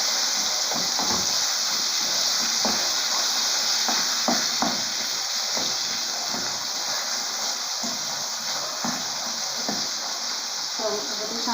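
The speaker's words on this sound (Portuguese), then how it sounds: "eu vou deixar fritando aqui" Continuous loud sizzling and hissing of steak frying in a pan, close up, with faint talk and occasional clinks underneath.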